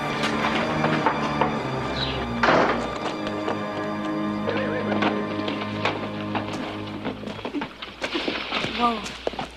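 Horse whinnies and hooves clop on the ground in an outdoor period drama scene, the animal sounds mixed with people talking and a few thumps.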